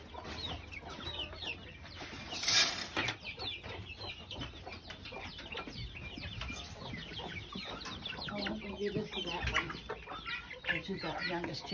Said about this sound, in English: They're about to let out their chickens and feed their chickens